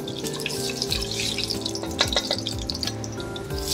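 Biryani masala with whole spices (cinnamon, cloves, stone flower, fennel, cardamom) frying lightly in oil and ghee, a steady close crackle and hiss with faint utensil clinks.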